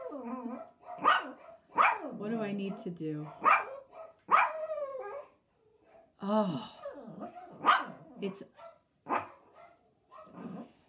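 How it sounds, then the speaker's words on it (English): Dogs barking in another room of a home, intermittent and somewhat distant, mixed under someone talking throughout. "I don't know if you guys can hear the other dogs barking out in the other room"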